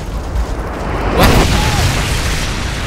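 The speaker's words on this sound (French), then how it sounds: "l'explosion a déglingué tous les hélicos" Explosion in the video game Call of Duty Modern Warfare 2, a single loud broadband boom about a second in that rolls into sustained rumbling battle noise with faint background chatter.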